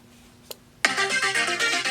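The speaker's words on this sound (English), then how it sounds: "my phone will make a weird audible noise" A smartphone rings out a loud, bright, melodic alert, set off by the phone-finder function of a Casio G-Shock GMW-B5000 all-metal square watch. The alert starts abruptly after a faint click and keeps going steadily near the microphone.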